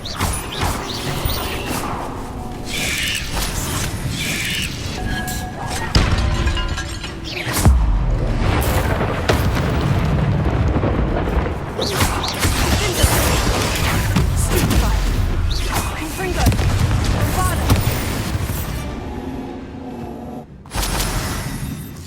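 Fire spell blasts in Hogwarts Legacy, dense booming explosions and crashes layered with combat effects and music, continuous and loud with brief gaps.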